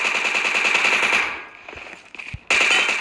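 Rapid automatic gunfire in a first-person shooter video game, a dense burst of close shots that pauses briefly with faint clicks and then resumes abruptly.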